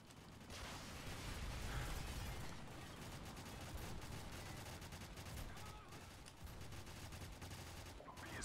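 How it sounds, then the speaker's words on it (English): Stun grenade going off during a Call of Duty 4 multiplayer match, a dense burst amid continuous loud gunfire and rattling game noise throughout. "That's a stun grenade."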